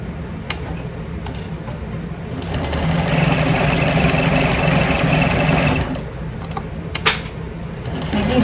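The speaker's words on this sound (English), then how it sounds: "We're going to stitch this at a 3/8 of an inch seam allowance." A sewing machine stitches a handbag seam at 3/8-inch allowance, running loud and steady for about three seconds between quieter starts and stops, with a sharp click near the end.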